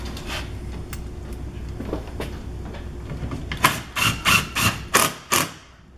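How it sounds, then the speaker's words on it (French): A run of five or six sharp, evenly spaced mechanical bursts, close and fairly loud, comes from screws being driven into an aluminium sliding door rail during installation, after a quieter stretch of faint handling noise. "Et aussi simple, on visse."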